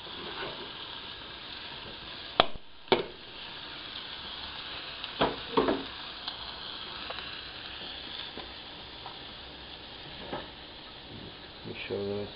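Covered food simmers in a pan on a stovetop, giving a faint, steady low sizzle with a few sharp clinks of a lid or utensil near the start and middle.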